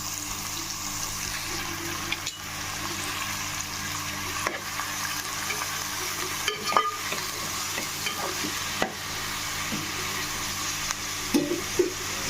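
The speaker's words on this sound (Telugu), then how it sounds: "దీంట్లోనే కొద్దిగా ఉప్పు పసుపు వేసుకుని ఒకసారి కలిపేసుకుందాం" Paneer is stirred with salt and turmeric in hot oil, giving a continuous close sizzle with occasional spoon scrapes and clacks against the pan over about twelve seconds.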